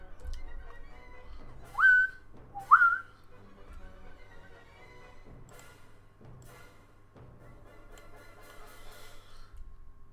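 Two short rising whistled notes, then softer breathy whistling that runs on, all close and alone without talk, in a tune from Hall of the Mountain King.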